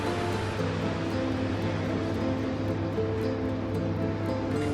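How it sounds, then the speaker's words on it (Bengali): Sea waves roar at Kolatoli beach in Cox's Bazar, heard from a hotel balcony as a steady distant wash of surf with no break and no voices. "সমুদ্রের গর্জনও শোনা যাচ্ছে"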